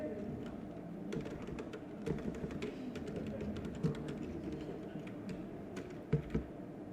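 Keys tap on a computer keyboard as a surname is typed into an HTML document for a school computing exercise, steady light clicks with a few louder strokes, close and alone.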